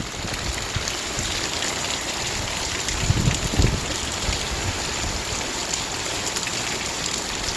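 A sudden rain shower pours down outdoors, a dense broadband hiss that stays constant throughout, with a brief louder low rumble or thud partway through.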